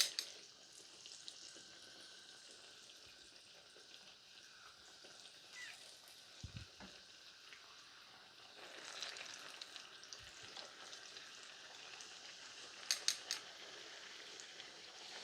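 Eggplant slices fry in hot oil with a continuous soft crackling sizzle, quiet and steady, joined now and then by faint clinks and small bumps of a utensil.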